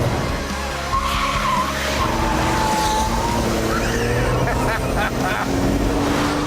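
A Porsche 911 GT2 with variable vane turbos being driven hard, a loud continuous engine and road roar with rising and falling tones and tire noise, steady throughout.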